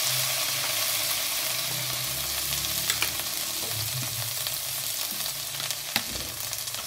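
Loud, steady sizzling and frying as vinegar is added to a hot pan for chicken Manchurian, with a few sharp clinks of a utensil against the pan.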